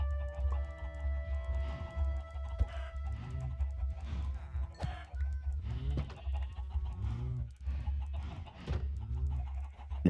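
Minecraft chickens on a small enclosed patch give repeated short clucks and squawks in uneven bursts, fairly close and clear over a low steady background hum, with no talking.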